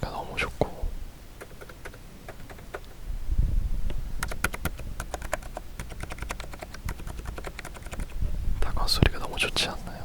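Mechanical keyboard keys clacking in steady, uneven bursts at close range, with soft low-pitched whispering running throughout.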